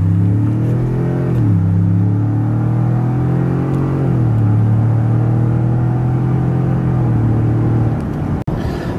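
A 2020 Ford F-150 King Ranch with the EcoBoost engine floored from a standstill, a loud, steady engine roar heard from inside the cab that climbs in pitch, drops at each gear shift and climbs again.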